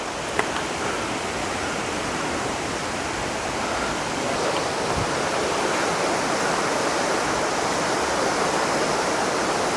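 Vazhvanthol waterfall deep in the forest gives a steady, dense roar of falling water, loud and unbroken, with no voices.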